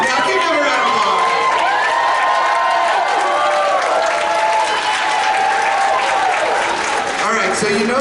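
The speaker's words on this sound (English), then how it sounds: "give them a round of applause." A large audience gives a loud, sustained round of applause for student leaders and advisors at a school gathering, with cheering, whoops and children shouting mixed into dense, steady clapping.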